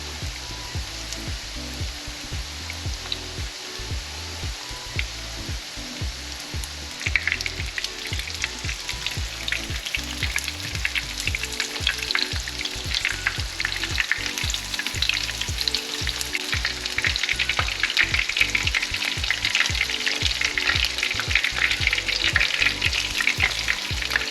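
Coconut-crusted American red snapper fillets fry steadily in a pan, a dense continuous sizzle and crackle that grows louder and brighter after the first few seconds, with no talking.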